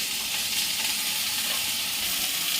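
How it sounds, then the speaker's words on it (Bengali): Potatoes frying in a pan at home, a steady close sizzle of hot oil holding constant and unbroken throughout, with no talking over it. "এদিকে আলুটা আমি ভেজে নিচ্ছি"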